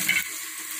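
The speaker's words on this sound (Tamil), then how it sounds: "இப்போ நம்ம எடுத்து வச்சுருக்க எல்லா காய்கறிகளையும் அப்படியே சேர்த்துடலாம்" Chopped vegetables for sambar, including drumstick, brinjal and yellow pumpkin, go into a hot pan and are stirred, giving a brief close hiss and sizzle that eases off quickly.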